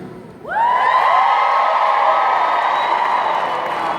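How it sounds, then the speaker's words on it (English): A large audience at a corporate business rally erupts into loud, sustained yelling and cheering, a dense roar of many voices with whoops that holds steady for several seconds. "Give me a yell."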